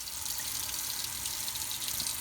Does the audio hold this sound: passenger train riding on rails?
no